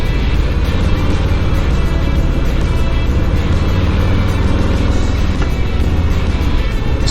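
A 2020 Harley-Davidson Low Rider S motorcycle on a test ride, its engine droning steadily and loudly with constant wind rush, close and continuous throughout.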